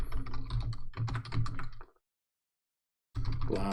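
Fast clattering keystrokes on a computer keyboard as data is typed into a new file, two bursts of steady close-up typing separated by a moment of silence.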